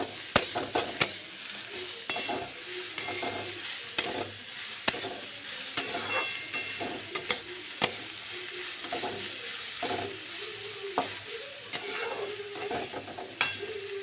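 Bottle gourd fries in a pan with no added water while a utensil scrapes and clatters against the pan in repeated strokes over a steady soft sizzle.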